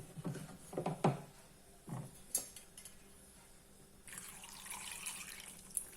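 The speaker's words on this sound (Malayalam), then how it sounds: "വെള്ളം ഒഴിക്കണം" Water poured into a cooking pot of potatoes on the stove, a steady rushing pour with a few knocks and clinks, close and moderately loud.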